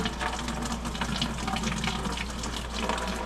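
Coolant draining from a Ram 6.7 Cummins engine during a coolant riser delete, a steady loud rushing pour of liquid that holds constant throughout, close by with no talk.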